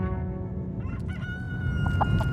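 Chickens on a farm in a small village in central France, several hens clucking and a rooster crowing together, close by and fairly loud, with brief sharp calls near the end.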